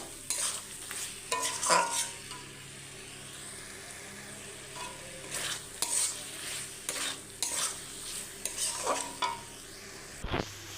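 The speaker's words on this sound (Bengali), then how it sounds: "চিকেন কিমাটা আমার ভালোই কষা হয়ে এসছে আর একটু কষে নেবো" Chicken mince being stir-fried in a kadai: a steady low sizzle broken by repeated sharp scrapes and clatters of the spatula against the metal, with louder bursts of stirring at irregular intervals.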